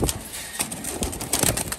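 Pigeons flap and scuffle in short, irregular bursts of wingbeats close by, knocking against their enclosure.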